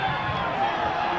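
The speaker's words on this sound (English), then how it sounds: "Home crowd cheering the side on." A home rugby league crowd at a Whitehaven versus St Helens match cheers the side on, a steady dense roar of many voices heard from a distance across the stadium, sustained without a break.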